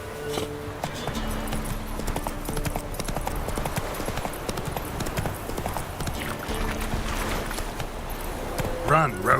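Roach, the horse in The Witcher 3, gallops with rapid, steady hoofbeats throughout, along with game sound effects and voices heard over the hooves.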